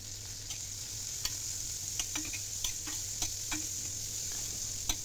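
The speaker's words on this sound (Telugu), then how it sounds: "ఇంకా పచ్చిమిర్చి కూడా వేగిపోయాయి. ఇప్పుడు కచ్చపచ్చగా దంచి పెట్టుకున్న వెల్లుల్లి" Crushed garlic and green chillies frying in a pan for onion rice, a quiet steady sizzle with a low hum and sporadic ticks of a spoon stirring, no voices.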